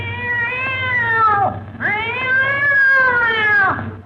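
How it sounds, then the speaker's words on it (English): Two long, drawn-out cat meows in a radio comedy haunted-house sketch, each rising then sliding down in pitch, loud and close over a low steady hum, with a brief pause between them. "Don't step on that cat's tail."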